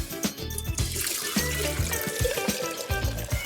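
Water poured into a container for a mermaid-themed DIY beauty mix splashes and trickles steadily under a rhythmic thumping backing track.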